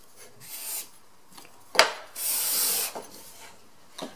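Card scraper drawing thin, continuous wood shavings in a woodshop, heard as several short rasping strokes and one longer sustained scrape, close and fairly quiet with pauses between passes.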